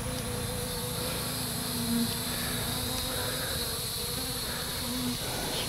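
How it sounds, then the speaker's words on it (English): Honeybees buzz around a swarm trap during an inspection, forming a continuous close hum with a few sharper whines as individual bees pass near. No talk is heard. "There's a bee doing some kind of waggle"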